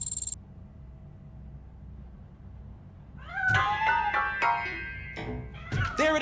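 A cat in the Robocop: Rogue City video game meows several times, loud and close, in drawn-out wavering cries after a quiet pause that follows a short sharp sound.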